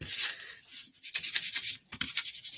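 Dry rubbing strokes of blending colours together, a few quick scuffs followed by a steadier run of repeated rubs, close and fairly quiet.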